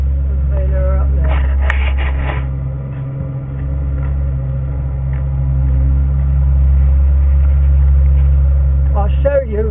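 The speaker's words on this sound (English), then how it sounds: "whilst the tractor's coming round" A tractor engine runs steadily at a distance while driving around a field during baling, a constant low drone with occasional higher clanks and rattles over it.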